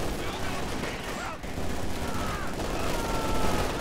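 Machine gun suppressive fire in a World War II strategy game match, a steady dense rattle of distant automatic bursts under a commentator's continuous talk.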